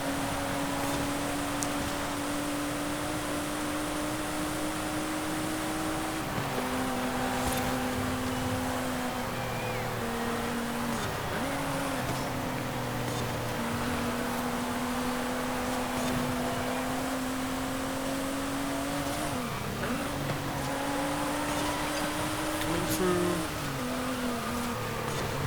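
Nissan Z race car in Forza Horizon 5, engine holding a steady tone through a circuit race, its pitch dipping and rising at shifts and corners under a constant wash of road and wind noise.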